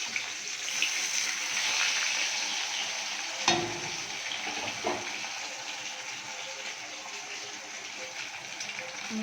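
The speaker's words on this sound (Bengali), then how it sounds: "মাছ ভাজা হচ্ছে," Rohu fish frying in a wok with spices, a steady hissing sizzle throughout, broken by a couple of sharp clatters as it is stirred; close and continuous, no talking.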